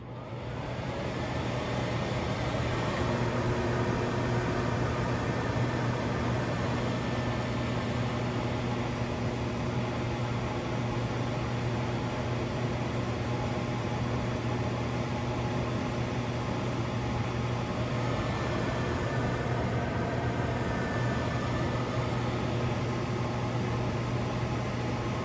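A microwave oven heating candy-coated chocolate-covered peanuts runs with a steady, even hum and low drone, unbroken and close for the whole stretch.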